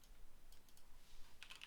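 Quick, faint typing on a computer keyboard, a short run of light key clicks with a few sharper taps near the end.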